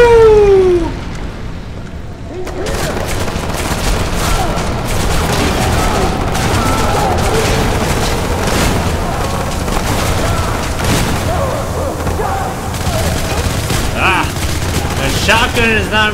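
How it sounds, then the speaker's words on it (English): Explosions and bursts of gunfire in the shooter game Hatred, heavy booms and rapid shots piling up loud and close for several seconds. "Oh, that's gonna blow up."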